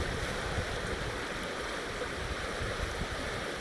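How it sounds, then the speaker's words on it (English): Constant broadband rush of a nearby waterfall, a steady hissing roar with no breaks or voices. "I am next to a waterfall"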